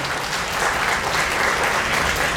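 Audience applause at a national libraries gathering, steady and dense throughout, a large crowd clapping continuously at even loudness with no voices over it.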